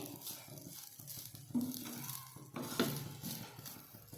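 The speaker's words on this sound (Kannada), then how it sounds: "ಸ್ವಲ್ಪ ಮಿಕ್ಸ್ ಮಾಡ್ಕೊತೀನಿ ಕೊತ್ತಂಬರಿ ಅನ್ನದ ಜೊತೆ" Coriander stirred into cooked rice in a pot: repeated close scraping and clinking of a spoon against the pot in an uneven rhythm over a soft background sizzle.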